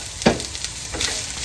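Curry leaves crackle and fry in hot oil with a fish and chilli tempering, a dense, steady sizzle with a couple of sharper spits and pops, close and loud with no talking.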